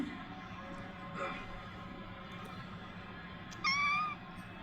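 A cat beside a wrestling event: one short, clear meow near the end, with a faint earlier mew, over low room noise and distant commentary.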